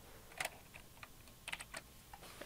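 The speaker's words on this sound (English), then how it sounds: "we are now able to begin typing C++ code" Quiet, close clicks of a computer keyboard as C++ code is typed in Visual Studio, coming in short bursts of a few keystrokes each with small gaps, no talking.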